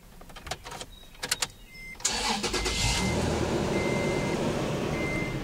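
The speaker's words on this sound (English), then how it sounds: "So let's go start the truck." A truck engine cranks and catches after a few sharp clicks, then settles into a steady, loud, close idle that carries through the rest of the clip, with faint beeps over it.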